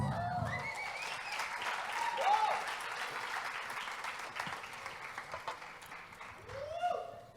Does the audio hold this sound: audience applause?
yes